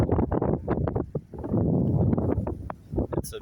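Gusty wind blowing outdoors late at night beside an infinity pool, buffeting the microphone in uneven rumbling bursts, loud and close, with no talking.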